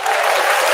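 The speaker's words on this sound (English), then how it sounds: "And the crowd goes wild." A crowd claps and cheers in a short, dense burst of applause, loud and steady with no voices on top.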